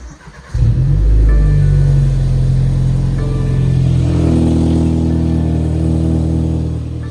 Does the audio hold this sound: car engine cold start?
yes